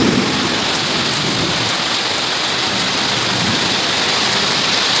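Heavy rain pours in a dense, unbroken roar during a thunderstorm, steady and loud throughout with no voices.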